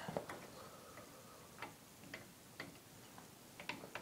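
Wrench working loose the 10 mm head bolts on a Briggs and Stratton engine during a head gasket job, giving faint, sparse ratcheting ticks spaced out over a few seconds with no talking.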